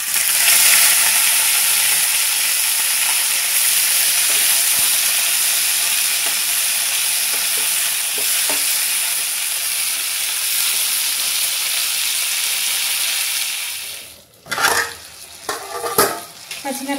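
Green chillies and tomatoes cook in a spoonful of oil, giving a steady, close sizzle with scraping stir strokes for most of the stretch, then a few louder clatters and knocks near the end. No one talks.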